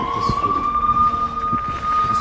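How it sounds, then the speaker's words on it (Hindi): An air raid siren wails across Tel Aviv, holding one loud, steady tone that rises slightly over about two seconds, with city rumble underneath and no voices. "यहाँ पर पूरे शहर में सायरन बजते हुए दिखाई"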